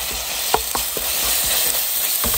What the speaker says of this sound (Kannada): ಅಷ್ಟರೊಳಗೆ ಫ್ರೈ ಮಾಡಬೇಕು ಈರುಳ್ಳಿಯನ್ನು